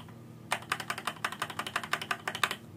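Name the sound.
space bar pressed on Deep Cool KG722 mechanical keyboard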